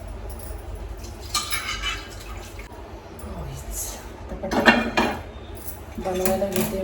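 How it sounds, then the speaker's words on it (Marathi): In a home kitchen, an iron tava griddle goes down and pans clink, giving a few sharp metallic knocks and scrapes with quiet gaps between them, close and moderately loud. "आता आपण तवा लगेच ठेवून घेऊ"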